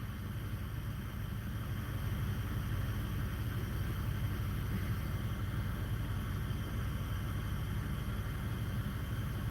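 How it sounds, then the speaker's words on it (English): Steady road rumble and tire hiss from a car cruising on the road, heard from inside the cabin, even and fairly faint with no talking. "We're driving home right now, actually."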